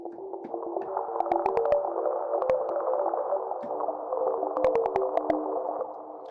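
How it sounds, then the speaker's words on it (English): A breathy synth pad in Serum built solely from a filtered noise oscillator, resonant tones shifting slowly over a steady hiss, with occasional sharp clicks; sustained and moderately loud, no talking. "the noise oscillator is the sole sound source and it's only being processed by filters"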